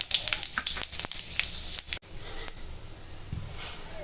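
Dry red chilli, panch phoron, cumin seeds and bay leaf crackle and sizzle in hot oil, a steady close frying hiss broken by sharp pops and spits, with a few brief clatters early on and no talking.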